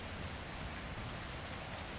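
Steady, dense rainfall in the Metro Exodus video game, a continuous even hiss of drops on surfaces with no talking.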